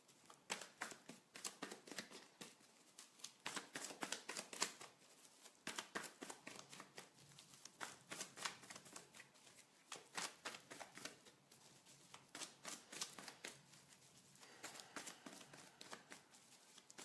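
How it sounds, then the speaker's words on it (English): Tarot cards are shuffled by hand continuously at close range, giving a dense, quiet run of soft riffling and slapping flicks with no clear pauses. "I was shuffling but no cards were dropping"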